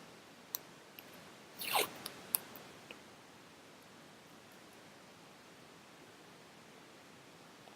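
Scissors cutting paper strips and washi tape: a few sharp isolated snips and one longer slicing cut early on, then near silence until a final click.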